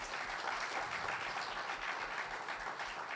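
Sustained audience applause fills a gathering where the Chilkur Balaji temple priest Rangarajan is speaking; dense, even clapping from many hands holds steady at full strength from start to finish, with no voices over it.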